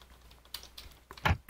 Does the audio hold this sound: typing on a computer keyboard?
yes